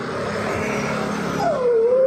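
Hungry street dogs in a residential society whimper nearby, ending with a thin rising whine over steady background traffic noise.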